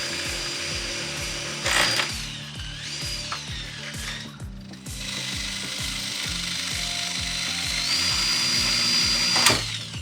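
A power drill ratchets and whirs steadily while removing parts from car doors during a DIY race car build, a loud, continuous mechanical clatter with rhythmic clicking and brief higher whines.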